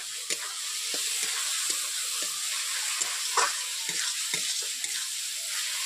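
Masala with chopped tomato and two green chillies cooks down in a pan, crackling in a continuous sizzle punctuated by light taps and clicks of stirring, with no speech.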